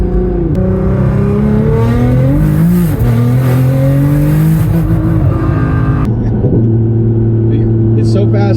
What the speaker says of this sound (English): exhaust sounds great